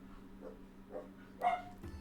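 Dogs barking indoors at something, a few scattered barks over a low steady hum, the loudest burst near the end, with no talking.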